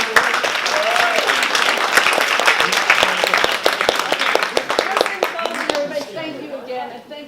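A seated audience gives presenter Susan a sustained round of applause after a talk, dense steady clapping that tapers off near the end, with voices heard over it.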